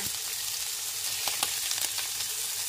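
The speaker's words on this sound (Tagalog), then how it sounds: "Ipa-fry muna natin ng bahagya bago natin lutuin talaga." Shrimp sizzle in a hot pan for a quick initial fry, a dense continuous hiss broken by sharp pops and crackles.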